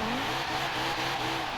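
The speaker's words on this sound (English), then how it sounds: "It burns all four tires." A 2018 Alfa Romeo Stelvio Quadrifoglio with an AWD drift tune revs hard with squealing tires, a sustained engine roar blended with tire noise, fairly loud and steady, with no talking.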